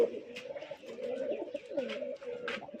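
Rajshahi Giribaz pigeons cooing up close in a steady stream of soft, throaty rolling coos, with faint chirps in the background.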